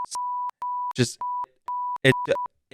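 A meter gives off a rapid series of steady electronic tones, each beep lasting about a third of a second with short gaps between them, loud and close, broken up by bursts of a voice talking over it.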